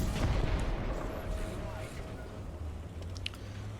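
Tank gunfire in War Thunder sounds as explosive rounds go off: a heavy booming shot at the start followed by lingering rumble and battle noise, with someone talking faintly underneath.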